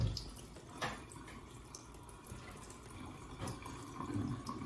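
Film wash solution being poured into a developing tank, a soft, continuous trickle of liquid with small splashes, faint and steady in a quiet room.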